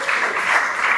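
Wedding guests at Athol Hall in Sydney applaud Jordan and Dennis, a dense, steady round of clapping from a crowd, loud and continuous throughout.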